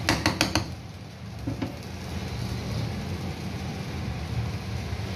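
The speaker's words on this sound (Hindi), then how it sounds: "हम अच्छी तरह मिक्स करेंगे।" Onion being mixed into bhindi gosht in a pan, with a quick run of spoon clinks and scrapes against the metal at first, then a steady low stirring rumble.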